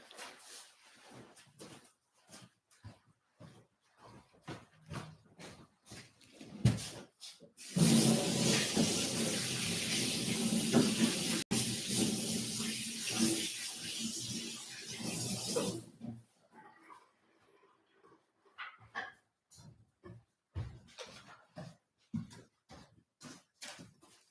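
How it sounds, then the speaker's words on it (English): Hands are washed under a running tap: a steady rush of water lasts about eight seconds mid-clip, framed by faint scattered clicks and handling noises in a quiet room. "now I'm going to take a small break, 20 seconds, just to wash my hands"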